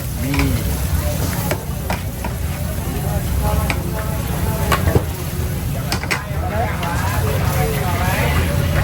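Steady sizzling of food frying on a hot pan at a Ramadan bazaar stall in Malaysia, with occasional clatter of a spatula and people talking nearby over the cooking noise.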